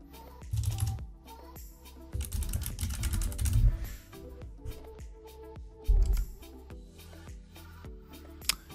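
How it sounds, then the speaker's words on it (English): Typing on a computer keyboard while setting up Windows Server: close, quiet clusters of key clicks in irregular bursts, with a few heavier thumps and short pauses between. "type in device manager."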